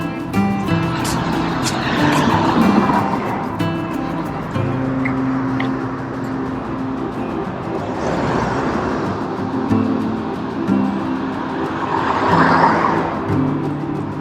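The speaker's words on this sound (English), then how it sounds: "We are on a busy street here on Broadway, so you're getting a lot of traffic noise." Steady traffic on busy Broadway in Long Beach, with cars passing close by in overlapping swells of engine and tire noise, a continuous loud roar rising and falling.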